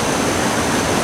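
The Hiwassee River, just past the North Carolina line into Tennessee, rushes steadily as a loud, even wash of flowing water, close and constant with nothing else over it.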